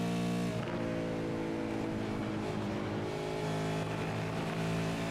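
A Supercars race car in a sim racing game at Road America revs hard in fourth gear, its loud engine whine holding steady with rising harmonics after a brief shift near the start.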